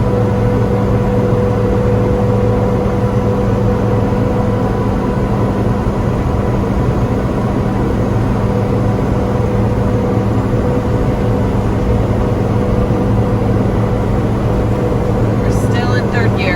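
A Jayco Seneca Class C motorhome climbing Hoosier Pass on Highway 9 in third gear at about 40 mph, its engine droning loudly and steadily with constant road noise, under occasional talk.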